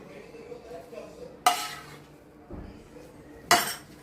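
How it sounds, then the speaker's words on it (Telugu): Fried mango pulp is mixed into cooked rice in a metal vessel for mango pulihora. A spoon scrapes and stirs quietly, with two sharp metallic clanks against the pot standing out. "ఇప్పుడు మనం ఈ రైస్లో కలిపేసుకుందాం"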